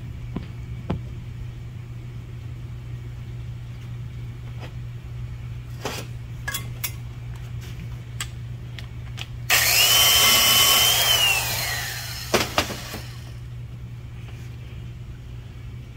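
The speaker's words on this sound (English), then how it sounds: "let's grind it, see what it looks like." A power tool grinds a valve seat in a small-block Mopar 318 cylinder head, a loud steady high whine lasting about three seconds, framed by sharp metallic clinks and taps of tooling before and after.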